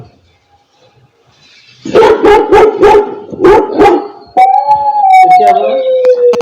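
An Alexa smart speaker plays a recorded dog sound: about six loud, rapid barks in a quick burst, then a drawn-out, wavering howl or whine, all heard close and clear after a quiet start.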